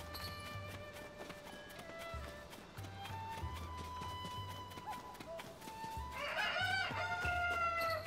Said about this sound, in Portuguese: Olha o galo da Nico aí